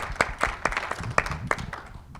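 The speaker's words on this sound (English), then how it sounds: "Round of applause for everyone up here." Scattered applause for panelists at a conference, a small group clapping in distinct uneven bursts for about two seconds, fairly soft and close.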